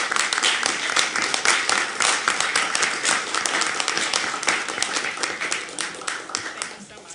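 A school board meeting audience applauds the board in a sustained, dense burst of clapping filling the room, steady for several seconds before tapering slightly at the end.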